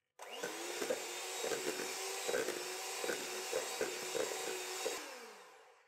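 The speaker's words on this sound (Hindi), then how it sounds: "बटर को बीट करेंगे हाई स्पीड पे।" An electric beater whipping butter in a bowl at high speed for cake batter, a steady whirring motor hum held for several seconds with periodic knocks and clicks of the beaters against the bowl, fading out at the end.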